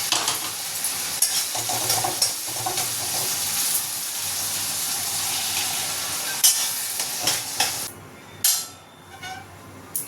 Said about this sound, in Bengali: মশলাটা কষে নিলাম এবার এই ডালটা দিয়ে দেবো